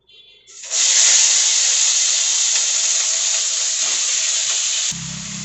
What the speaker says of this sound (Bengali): তো আমি তেলের ওপর এবার পেঁয়াজ কটা দিয়ে দেব।